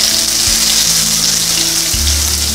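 Garlic fries in hot oil with a loud, dense, close sizzle that runs unbroken throughout, over a faint low hum, with no talking.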